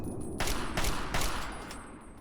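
Gunfire from the video game Fallout 3 comes as a short, loud burst of rapid shots that run together into a dense rattle over about two seconds.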